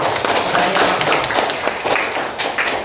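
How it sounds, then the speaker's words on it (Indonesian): A classroom group claps for group 2 after its presentation, a loud, uneven flurry of hand claps that continues throughout without voices. "Tepuk tangan buat kelompok 2"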